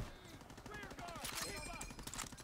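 Rapid bursts of gunfire crackle in Call of Duty: WWII during the D-Day 1944 mission, dense and continuous under faint voices and game sounds.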